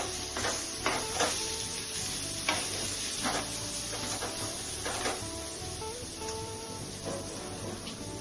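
Masala for a tangra fish curry fries in a pan with a quiet, steady sizzle, broken by regular scraping strokes of a spoon stirring it.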